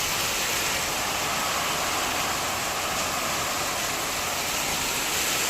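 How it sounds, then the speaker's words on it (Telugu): Heavy rain pouring down after hours of downpour, a dense and unbroken roaring hiss that stays steady and loud from start to finish. "దాదాపు 2 గంటల నుంచి కొడుతుందండి వర్షం"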